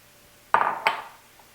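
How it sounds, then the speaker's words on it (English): Two quick clinks as chopped celery lands in a pan of drained hamburger, followed by a short rustling scrape, close and clear with no talking. "Now I'll add in my celery."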